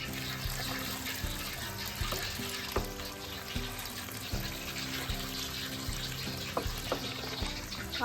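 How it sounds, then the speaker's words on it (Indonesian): Cut potatoes fry in hot oil in a village kitchen, a dense continuous sizzle and crackle with occasional clinks, steady and close. "Lanjut goreng kentang teman-teman."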